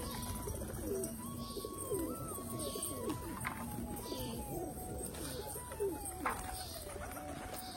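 Pigeons coo in soft repeated rolling calls beneath a person speaking nearby, with other faint bird chirps and a steady background hum.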